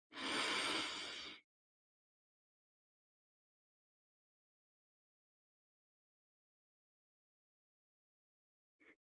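One slow, soft breath drawn in through the nose during a calm meditation, a single breathy rush lasting about a second, followed by long silence and a faint trace of breath at the very end.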